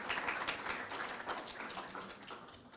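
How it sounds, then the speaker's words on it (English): An audience at a Nashville panel event applauds, a steady wash of many hands clapping at moderate distance, fairly faint and slowly tapering off without talk. "Give that man a round of applause, please."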